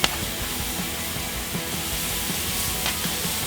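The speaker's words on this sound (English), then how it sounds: "And that sizzle is the sound you want to hear." Steak and mushroom kebabs sizzle on a grill with a steady, dense hiss and faint crackles, close and continuous, with no voices.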